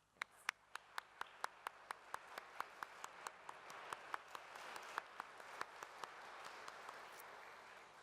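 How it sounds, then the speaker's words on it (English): After a lecture, individual hand claps stand out sharply near the front while a softer, quieter round of audience applause swells behind them. "So please join me in one last round of applause."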